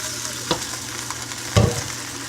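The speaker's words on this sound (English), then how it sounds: "You hear that sizzling because I always preheat my crock pot." Brief sizzling bursts as beef hits a preheated crock pot, with a louder hiss near the end over a low steady hum.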